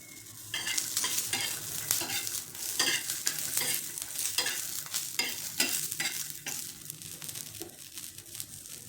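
Green chillies roast in a hot pan with ten to twelve garlic cloves, a steady close sizzle broken by repeated scraping stirs throughout.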